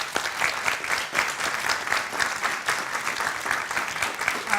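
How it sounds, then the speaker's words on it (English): Audience gives a steady, dense round of applause at a televised corporate ad competition, many hands clapping loudly and evenly throughout without letting up. "I have to give them a big round of applause one more time."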